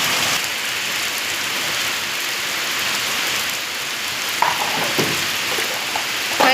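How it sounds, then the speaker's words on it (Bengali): Heavy rain pouring down outdoors, a steady, dense hiss of drops hitting surfaces throughout, with a few faint knocks near the end and no talking. "দেখো খুব জোরে জোরে বৃষ্টি হচ্ছে।"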